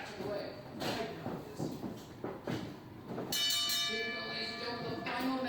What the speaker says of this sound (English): Here we go, gonna ring the bell.